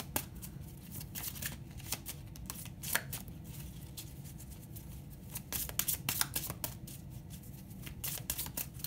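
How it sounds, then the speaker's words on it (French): Oracle cards being shuffled by hand, a quiet, close run of rapid flicking and riffling snaps lasting several seconds, with no talking. "Je vous tire une petite carte de l'oracle de l'amour."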